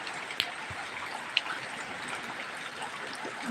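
Steady rain falls with a light wind, a continuous soft wash of drops broken by a couple of sharp nearby drips.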